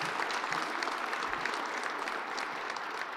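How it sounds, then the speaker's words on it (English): An audience claps for a nuclear industry team after a speech, giving a dense, even round of applause that stays steady throughout without voices on top. "let's give Ken and his team a huge round of applause for that major achievement"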